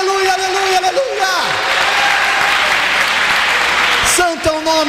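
A church congregation applauds in worship, a loud, steady wash of clapping that fills the space, with a voice and music sounding over it at the start and end.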